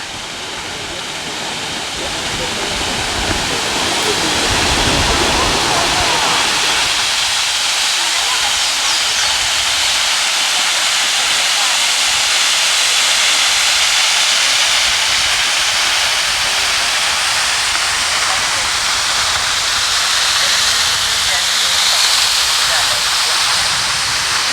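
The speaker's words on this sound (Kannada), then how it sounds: "ಅರ್ವಲಂ ಜಲಪಾತ." Arvalem waterfall in Goa roars as a loud, steady broadband rush of falling water that continues without a break, with voices mixed in at times.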